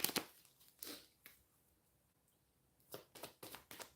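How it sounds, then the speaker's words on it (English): Tarot cards are shuffled quietly nearby: a few soft riffling bursts at the start, a lull, then a quicker run of crisp card flicks near the end, with no talking. "one more shuffle"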